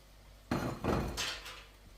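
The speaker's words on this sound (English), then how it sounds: "So let's just dump them in just like so." Chopped yellow squash and onion tumble into a pan in a couple of quick thuds and rattles, followed by a brief scraping clatter, close and moderately loud with no speech.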